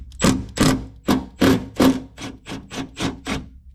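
About ten sharp metallic taps from a thread-cutting tap tapped into a hole, in a quick, slightly uneven series, close by and fairly loud, with a brief ring after each strike.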